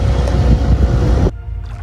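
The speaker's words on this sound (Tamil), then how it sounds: "ஃபைனலி போட்டிங் ஸ்டார்ட் ஆயிடுச்சு." A tourist boat on the Teppakulam temple tank in Madurai sets off, its steady engine and water rumble running loud and close, then dropping abruptly to a quieter hum near the end.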